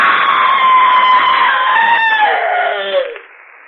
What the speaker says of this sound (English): it's all over but the screaming